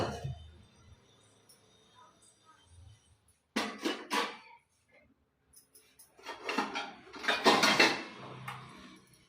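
Cooked dal being mashed in a pot, heard as scattered metallic scrapes and clanks of a utensil against the pot, quiet at first, then in louder bursts near the middle and end.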